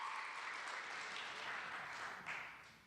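Audience applause for a contestant at a talent hunt, a dense wash of clapping at moderate distance that holds steady and then begins to fade near the end.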